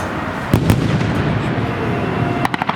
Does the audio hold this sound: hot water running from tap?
no